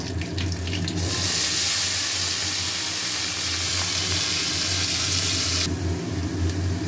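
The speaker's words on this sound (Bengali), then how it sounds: "আলুটা ভেজে নেব।" Potatoes frying in a pan with tempering spices give a loud, steady sizzle close by, swelling after the first second and easing near the end, with no talking.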